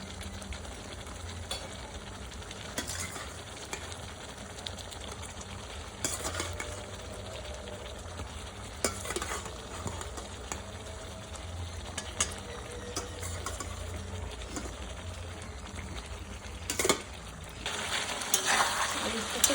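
Potatoes and spices fry with softened tomatoes for a pangas fish and potato curry, a low, fairly quiet sizzle with scattered stirring scrapes and utensil clinks that grow busier toward the end.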